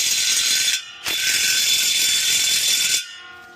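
A ratchet cranks off a ball joint nut on a Ram 2500 in two loud, close bursts of rapid clicking. A brief pause separates the bursts, and the second one runs longer.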